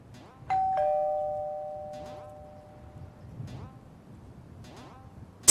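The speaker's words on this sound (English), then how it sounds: "what new torment doth this bell bring forth?" A doorbell rings a clear two-tone ding-dong that lingers and fades, followed by faint indistinct voices and a sudden loud burst at the very end.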